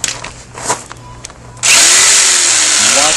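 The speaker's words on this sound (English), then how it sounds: "You can use pretty big saw teeth on that to cut any plastic." A reciprocating saw with large teeth cuts through plastic mobile home skirting, starting abruptly partway through as a loud, steady buzzing roar after quieter handling noises, running continuously to the end.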